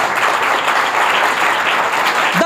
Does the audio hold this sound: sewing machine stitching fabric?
no